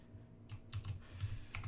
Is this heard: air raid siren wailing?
no